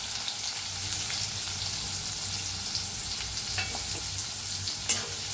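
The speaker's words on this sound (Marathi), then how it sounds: "इथं 2 कांदे कापून घेतलेले आहेत ते भाजून घेऊया." Two chopped onions frying in a pan with a pinch of asafoetida for a brinjal bharit, a steady close sizzle with faint stirring scrapes and one sharp clink near the end, fairly quiet and without speech.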